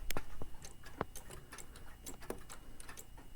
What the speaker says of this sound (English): Now for the banjo clock.